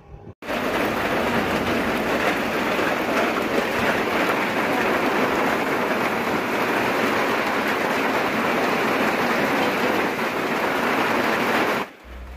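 Heavy rain pours down steadily over a village at Poolampatti, a dense, unbroken hiss that holds at the same strong level for about twelve seconds before cutting off, with no voices.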